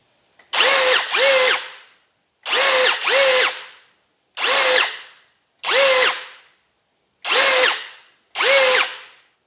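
A Parkside PABNSG 20 cordless pop rivet gun runs in six loud motor bursts, the first three as quick double whirs and the rest single, each rising then fading, separated by short silences.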